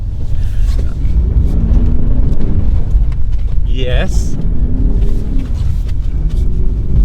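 A 2020 Audi SQ8 accelerates in a snowy, empty car park, a deep continuous engine rumble heard from inside the cabin, with a brief voice speaking over it midway.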